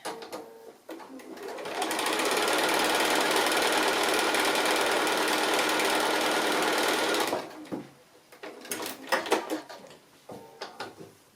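A sewing machine stitches cat appliqué, running in one sustained rapid burst of about five seconds, then stopping and giving way to scattered handling clicks and rustles, close by.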